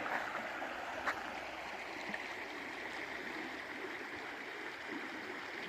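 Shallow water streams over rocks where the Mississippi River begins at Lake Itasca, Minnesota, making a soft, continuous rushing hiss at an even level, with one faint splash.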